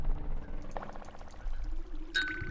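Water flows and pours in the video game Minecraft, a soft trickling stream with faint splashy bursts and a brief bright ping near the end.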